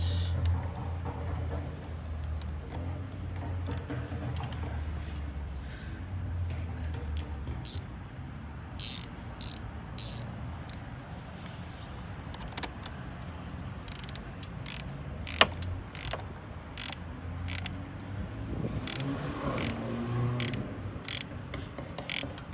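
Close ratchet clicks tighten a part during car battery and alternator work, coming in scattered short bursts over a low background rumble, with a sharp clank partway through.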